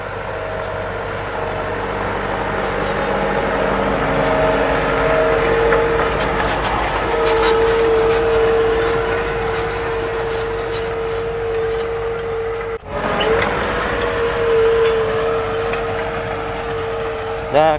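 A tractor pulls a New Holland PP 400 sunflower planter across dry, dusty farmland, its engine a loud, steady drone with a sustained tonal whine running throughout, briefly dipping once before resuming.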